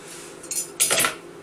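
A knife and fork clatter against a plate or pan while a roast chicken is cut open, with two short metallic scraping bursts, the second longer and louder, close by in a quiet kitchen.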